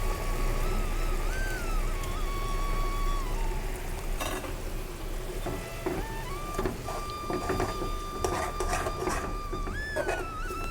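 Ground paste added to a simmering Kerala shallot curry, ulli theeyal, sizzles and hisses continuously in the pan, with a faint tonal whine and occasional stirring scrapes underneath, close and moderately loud.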